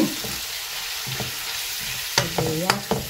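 Garlic sautés in a pan for a Filipino kare-kare stew, sizzling steadily up close while a utensil scrapes and taps against the pan several times near the end.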